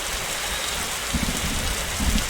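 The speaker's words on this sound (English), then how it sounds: "there's a really bad storm." A bad rain storm in the video game Evie pours down as a dense, steady hiss, with heavier drops spattering and low rumbles coming through now and then, no voices.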